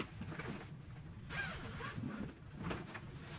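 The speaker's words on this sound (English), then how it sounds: "So, we're going to open up the bag." A zipper drawn open along the fabric storage bag of a Growsun 4x8 horticulture grow tent, a soft steady rasp running for a few seconds with slight surges, close and moderately quiet, no voices.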